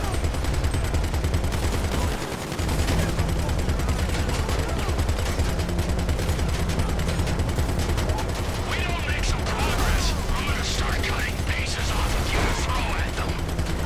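Rapid gunfire in the GTA 5 Online video game, dense continuous bursts and clatter filling the whole stretch, loud and unbroken, with a voice faintly under it.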